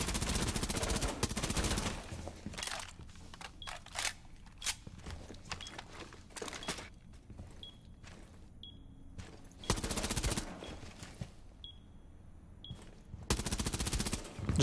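Gunfire in Rainbow Six Siege: loud rapid bursts of automatic fire at the start, the middle and the end, with scattered single shots and quieter gaps between them.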